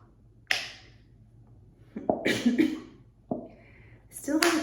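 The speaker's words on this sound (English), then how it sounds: "Still have a cough from my cold" Someone with a lingering cold coughs several times in short, dry bursts spaced a second or so apart, close and fairly quiet, over a faint low hum.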